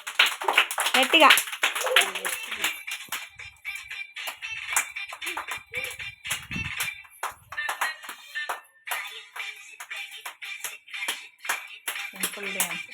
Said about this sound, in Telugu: వెరీ గుడ్, క్లాప్స్ కొట్టండి.